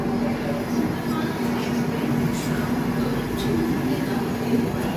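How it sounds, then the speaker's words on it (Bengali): A train rolls along with a steady, continuous rumble and a faint, constant hum, loud and unbroken throughout, with some low voices mixed in. "ট্রেন পেয়েছি।"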